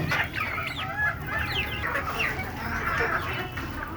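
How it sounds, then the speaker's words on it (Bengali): Native Deshi hens kept on a rooftop cluck and chatter continuously, several birds calling close by in overlapping bursts with no talking. "এই যে দেখেন এখানে আমার সবগুলো দেশি মুরগি"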